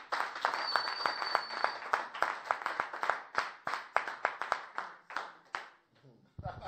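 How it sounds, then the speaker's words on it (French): A church congregation claps in a fast, even rhythm, dozens of sharp hand claps ringing out close and loud, with voices mixed in before the clapping thins out at the end. "je veux qu'on acclame Dieu comme pas possible"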